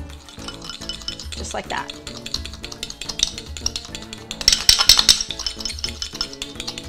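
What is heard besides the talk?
whisking honey salad dressing in a bowl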